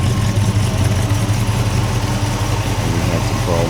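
A 1964 Ford Fairlane engine idles nearby, steady and loud, with a low rumbling exhaust burble that runs a little rough through water-filled mufflers.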